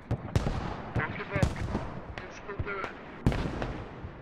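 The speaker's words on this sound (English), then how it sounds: "look at the artillery radius" Command artillery barrage in a military shooter on an Iraqi airfield, a series of sharp, sparse blasts near and far, scattered across the moment with talk in the background.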